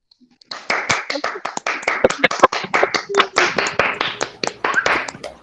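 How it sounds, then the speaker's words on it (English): Workshop audience clapping in a steady, dense burst of many hands, starting after a brief pause and continuing at a lively, even rhythm close by. "So clap for yourself as well."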